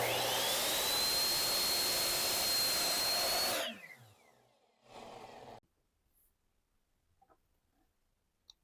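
A Ryobi miter saw cuts the end off a piece of wood: a loud, steady high whine for about three and a half seconds, winding down, a brief second burst as the blade spins again, then quiet with small handling clicks.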